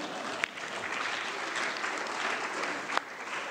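Conference audience applauding at a closing session, a steady wash of clapping heard at moderate distance and fairly soft, with a couple of sharper knocks near the start and end.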